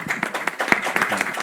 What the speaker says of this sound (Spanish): pues un aplauso para el Charlie.